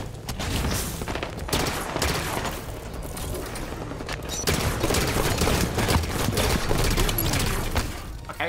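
Bolt Shot energy pistol in Halo 5: Guardians on the Tyrant map, firing in dense repeated bursts amid continuous loud multiplayer gunfire and explosions, with no voices.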